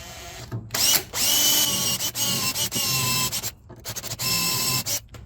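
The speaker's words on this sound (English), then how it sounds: "let's just drill this out" A power drill whines through wood in several bursts, drilling holes to a set depth in a wooden cabinet base, stopping and restarting between holes, loud and close.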